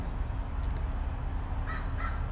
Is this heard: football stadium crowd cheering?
no